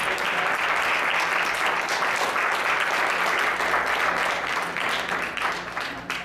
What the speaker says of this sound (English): Let's give our top leaders here, guys, a big round of applause.